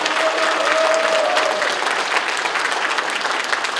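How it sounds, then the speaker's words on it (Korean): Steady audience applause at a Korean political gathering, dense and sustained clapping from a crowd throughout, with a brief whistle-like tone early on. "박수 한번 부탁합니다"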